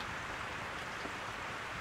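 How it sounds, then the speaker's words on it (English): Steady rain falls in the Rune Factory Frontier video game, a soft, even hiss of drops with no break or change, quiet and alone without voices. "You'll catch a cold if you wander out in the rain."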